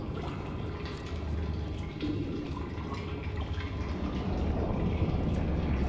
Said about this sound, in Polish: Nie wiem, ale słyszę wodę z toalety.